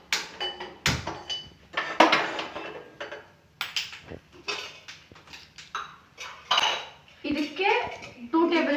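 A pressure cooker is set down on a gas stove and the burner is turned on, giving a run of close, irregular metallic clanks, clinks and clatters with short pauses between them.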